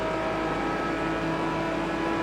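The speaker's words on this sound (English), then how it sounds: "listen to that V12 scream" A V12 GT-class race car in the Project Cars 2 racing game, its engine holding a steady, sustained high whine with no talk over it.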